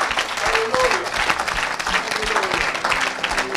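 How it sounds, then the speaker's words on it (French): A church congregation claps for Jesus in a sustained burst of applause, dense and lively throughout, with voices and a preacher speaking over the clapping. "Oh, acclame pour Jésus."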